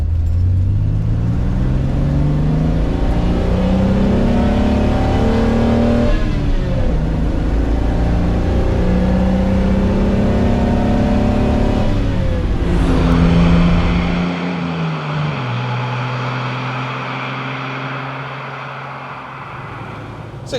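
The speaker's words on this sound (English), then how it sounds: "nice little pull through the gears again." A Lancia Flaminia GTL engine pulls hard through the gears, its loud, steady drone rising in pitch, dropping at each shift and climbing again, then easing off to a lower settled hum near the end.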